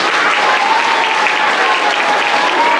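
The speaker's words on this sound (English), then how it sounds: "Can we give her a round of applause?" A school audience at an all-school meeting breaks into a loud, dense round of applause, steady clapping from many hands that fills the room evenly from start to finish with no voices over it.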